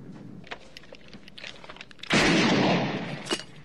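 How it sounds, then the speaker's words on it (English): A single loud gunshot bursts out in the 1982 movie The Thing, a sudden blast followed by a decaying roar, after quieter rustling and murmuring. "He shot him!"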